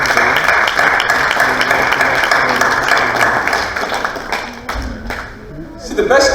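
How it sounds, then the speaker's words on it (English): Applause from a convocation ceremony audience, a dense steady wash of clapping that runs loud and continuous before thinning out near the end. "So big round of applause again"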